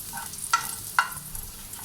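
Onions frying in a pan while being stirred, a faint soft sizzle with two short scraping clicks of the stirring utensil.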